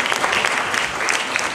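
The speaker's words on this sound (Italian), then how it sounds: "Un applauso per la giuria." An audience at a queer film festival awards ceremony in Florence claps steadily, a dense, even patter of many hands heard up close, with no voices over it.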